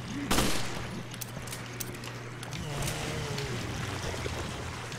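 Rapid gunfire in the video game Resident Evil Revelations, a burst of sharp shots early on followed by scattered quieter pops over a low droning hum, with faint talking.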